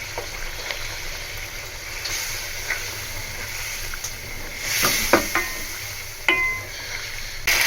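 Pickle being stirred into chicken korma in a cooking pot: a soft sizzle and gentle stirring scrapes with a few sharp spoon clinks against the metal, steady and close, no talk.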